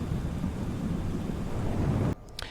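Steady rain and low rumbling thunder over Ibiza in Microsoft Flight Simulator 2020, a dense wash of sound that holds evenly, then cuts off abruptly near the end, leaving a couple of faint clicks.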